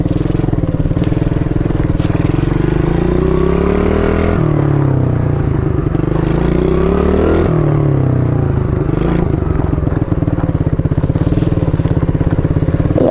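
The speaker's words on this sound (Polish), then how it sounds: "Jeszcze jeżdżę jakoś, jeszcze umiem jeździć, nie zapomniałem, jak się jeździ na motorku." An MRF 80cc motorbike engine drones close up while being ridden, its pitch rising and falling as it revs through gears, with rattling and wind buffeting mixed in.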